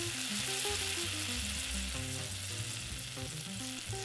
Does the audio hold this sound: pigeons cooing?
no